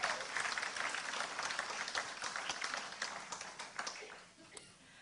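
Applause from a tea party crowd gathered at Independence Hall, a dense spread of clapping lasting several seconds at steady strength before thinning slightly near the end, with faint voices mixed in.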